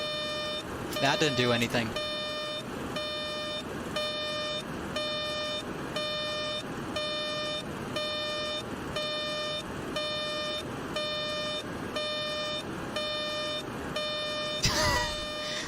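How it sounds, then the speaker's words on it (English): A cockpit warning alarm in the FlyJsim 727 flight simulator game repeats as an insistent pulsing tone for the whole stretch, with someone speaking over it at times. "I don't want to be listening to this alarm the whole way there"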